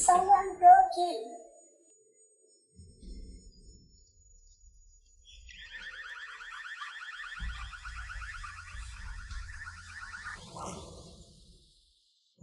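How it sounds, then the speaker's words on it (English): A house alarm wails with a repeating electronic warble after a break-in, lasting several seconds at moderate loudness, preceded by a brief voice and low rumbles. "The alarm attracted all the neighbors"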